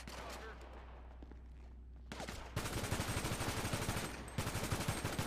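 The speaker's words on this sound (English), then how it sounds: "Stop shooting, stop shooting." Rapid automatic gunfire in a shooter video game, loud and sustained in dense bursts after a quieter opening, with a player's voice over it.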